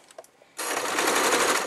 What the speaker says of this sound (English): You want to pull the fabric straight where you're sewing underneath.